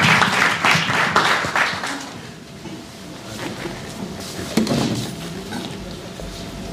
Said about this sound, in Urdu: تالی ہونی چاہیے